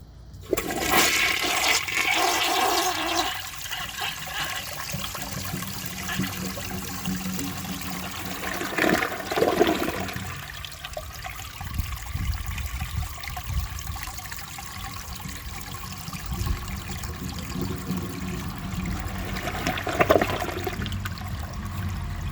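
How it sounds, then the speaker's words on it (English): A Gerber Avalanche toilet with its tank filled to the top flushes, giving a loud, sustained rush and gurgle of water that drains and trickles on for over twenty seconds, with no one talking. "That was a pretty nice flush."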